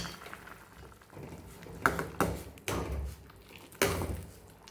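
A spoon works ground chickpeas into black channa gravy in a pot, giving several distinct scraping knocks against the metal over soft bubbling, with no voices.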